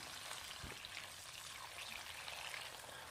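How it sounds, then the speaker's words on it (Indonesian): Salted sepat fish sizzling in hot oil, a steady, dense crackling hiss that holds evenly close by with no talk, one brief low knock early on. "Jika minyak sudah panas, goreng ikan asin dengan secukupnya minyak"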